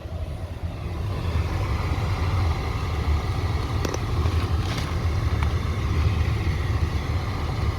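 Toyota Sienna HVAC blower fan running steadily inside the cabin, a loud constant broadband whoosh of rushing air with a low rumble, alone with no talk and a few faint clicks midway.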